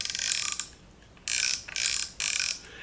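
A baby rattle with a ratchet is wound in short bursts of dry, rapid plastic clicking, close and fairly loud, with brief pauses between the bursts.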